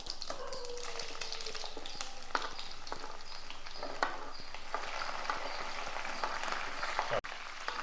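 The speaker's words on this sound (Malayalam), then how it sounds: "ഇതും കൂടി ഇതിനകത്തിട്ട് നന്നായിട്ടൊന്ന് മൂപ്പിച്ചെടുക്കണം അപ്പോൾ കടുക് പൊട്ടി തുടങ്ങിയിട്ടുണ്ട്" Mustard seeds pop in hot oil with garlic, chili and ginger for a grape and date pickle: a steady close sizzle broken by sharp scattered crackles and pops, with one clatter near the end.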